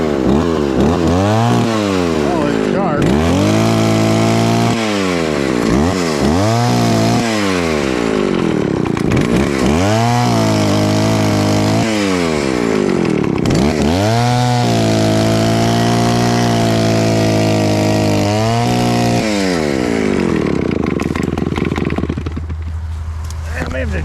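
A free Stihl chainsaw engine runs loud and close with the bar shield off, revving up and dropping back repeatedly before settling toward a rough idle near the end.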